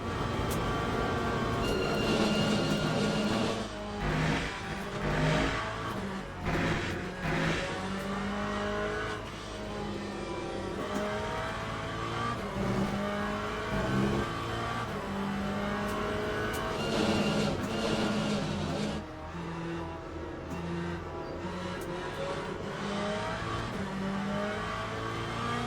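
A Corvette Z06 LMGT3.R race car engine in the Le Mans Ultimate racing game, lapping Spa. The engine drones loud and steady for the whole stretch, rising and falling in pitch through gear changes, with no talking.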